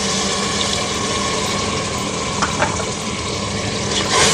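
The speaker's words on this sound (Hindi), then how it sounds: "अब पानी डालते हैं थोड़ा सा इसमें।" Water pours steadily into a pot with a continuous splashing rush, briefly louder near the end.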